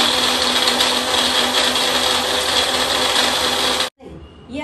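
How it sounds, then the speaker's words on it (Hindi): A countertop blender whirs loudly and steadily, blending jaggery and mint sharbat, then cuts off abruptly near the end, leaving a brief quieter stretch. "अब हम इसको ब्लेंड कर देते हैं"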